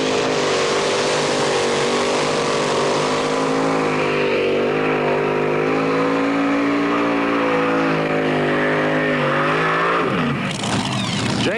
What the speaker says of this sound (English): on board the Renegade 1923 T-Bucket machine. Gives us our first test down the track